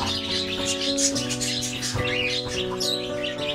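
Pigeons nesting in straw, a pair sitting on two eggs, heard over a busy background of chirps and calls with steady tonal hum running throughout, no speech.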